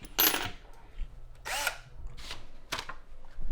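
A power drill bores holes in a ceiling for mounting a camera dolly, with several short bursts of whirring spaced apart, close by and fairly quiet.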